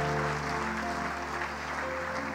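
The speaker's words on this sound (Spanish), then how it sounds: "Dele un aplauso al Señor, hermano." Church congregation clapping, a continuous moderate patter of many hands under sustained musical tones throughout.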